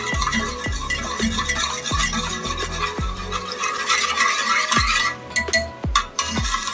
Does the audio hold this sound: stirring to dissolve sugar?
yes